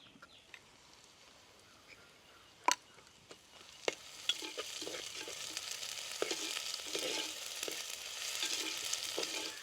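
Onions and ground spices frying in a hot pan for mutton sukka, a soft sizzle that swells louder toward the end, broken by several sharp clinks and scrapes of stirring.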